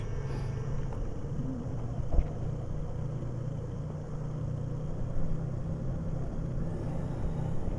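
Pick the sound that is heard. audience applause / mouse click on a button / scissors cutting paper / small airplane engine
small airplane engine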